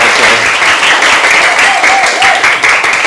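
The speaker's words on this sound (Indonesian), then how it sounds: "tepuk tangan dulu buat kita semuanya." An audience in a classroom gathering claps together in a brief, loud, even burst of applause, with a few voices mixed in.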